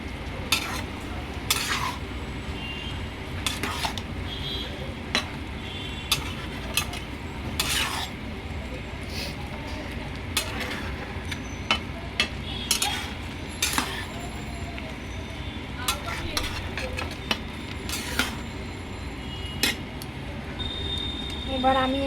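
Soaked sago being stirred in a pan for khichdi, with repeated scraping and clinking of a spoon against the metal over a steady low sizzle, continuing at close range throughout.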